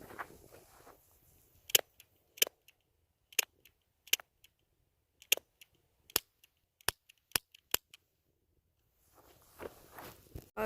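A BB gun fired at targets, with a quick series of sharp, close cracks and clicks spaced irregularly over several seconds, framed by quiet background noise.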